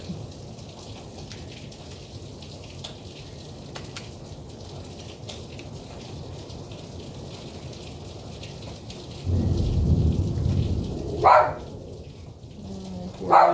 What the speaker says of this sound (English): He's just so scared of storms.